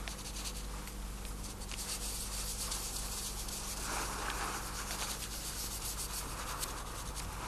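A finger rubs ochre paint to blend it where sand is painted, giving a soft, steady scratchy rubbing that goes on and on, close and faint, with no voices.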